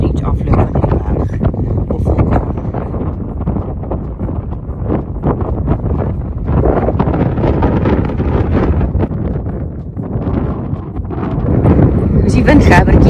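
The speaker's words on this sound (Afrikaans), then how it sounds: "Baie winderig." Strong, steady wind roars and buffets the microphone on an exposed mountain trail of the Tongariro Circuit, loud and continuous throughout with gusts swelling near the end.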